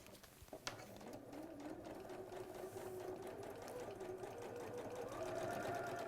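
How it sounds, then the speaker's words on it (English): A sewing machine top stitching a jacket runs steadily and close for the whole stretch, a continuous even mechanical whir with a rapid needle rhythm and no talk over it. "We'll just finish the top stitching."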